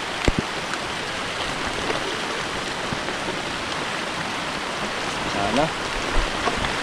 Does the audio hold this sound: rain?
yes